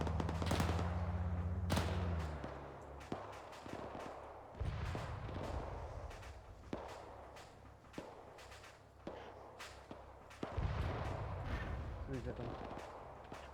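Gunfire in the World War II video game Task Force Athena, Operation Barbarossa campaign: sharp, loud rifle cracks and heavier booming shots at irregular intervals, some in quick bursts, against a low battlefield rumble, with a voice talking faintly between shots.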